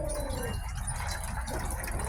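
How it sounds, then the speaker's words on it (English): An outdoor water fountain runs steadily at low level, a soft continuous trickle and splash with no pauses, fairly close and without talk. "This water fountain, I think you guys can hear the water running."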